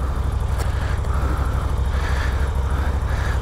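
A 2021 Moto Guzzi V7 Special motorcycle engine idles with a deep, steady grumble, close by and continuous, with no voices over it.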